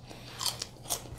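Crisp seafood chips made with fish and egg being bitten and chewed during a taste test, a few quick close crunches in a quiet room.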